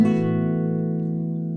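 A single strummed guitar chord from the Animal Crossing: New Horizons prologue theme rings out and slowly fades, steady and sustained with no voices.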